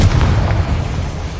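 Spell explosions from Bombarda and Confringo in the Hogwarts Legacy video game, a loud, dense run of booming blasts that fills the whole moment with low rumble.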